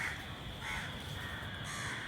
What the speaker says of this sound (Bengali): এখন কাক পাখিগুলো তারা কোলাহল করছে